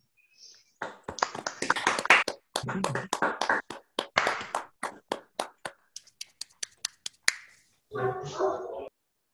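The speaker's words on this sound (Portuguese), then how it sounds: "convidar todo mundo a abrir os microfones para a gente poder aplaudir" Scattered, uneven clapping from an online seminar audience through open microphones, many separate sharp hand claps and snaps piling up, then thinning to isolated claps, with a brief burst of voices near the end.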